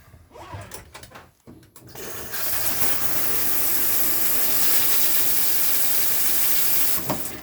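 A caravan shower in a 2013 Swift Challenger SE 570 runs with a loud, steady hissing spray that starts abruptly after some faint clunks and handling noises, then cuts off near the end.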